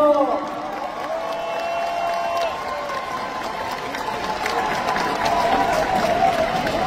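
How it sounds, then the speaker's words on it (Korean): Crowd at a Democratic Party leadership election event applauding and cheering candidate Jeong Cheong-rae, a steady roar of clapping and shouts that swells toward the end, with voices and music mixed in. "기호1번 정청래 후보에게 다시 한번 큰 박수 부탁드립니다"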